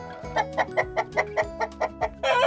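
Splash Wyandotte chickens in a coop cluck in a steady rhythmic series of short, close clucks, about ten in quick succession, with a louder burst at the end.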